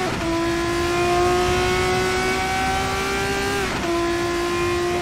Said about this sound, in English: How good is the sound on this car though?